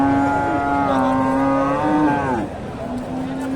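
A Friesian heifer at the Dakumara cattle market gives a loud, drawn-out moo close by, and a fainter lowing tail follows amid market background noise.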